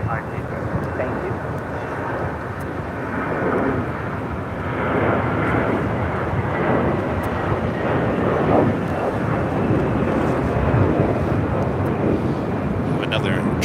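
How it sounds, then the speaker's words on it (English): A Japan Airlines Boeing 787 Dreamliner from Tokyo Narita lands on runway 24 left at LAX, its broad, rumbling jet roar building and holding steady as it passes at some distance outdoors. "Another Dreamliner landing on the north side on 24 left."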